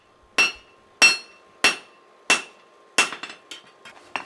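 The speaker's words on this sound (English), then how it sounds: "I can kind of work my way down the blade and forge some nice even bevels" A hammer strikes a hot camp knife blade on the anvil while forging bevels: five loud, evenly spaced ringing blows, then a quicker cluster of lighter taps, close and clear with no voices.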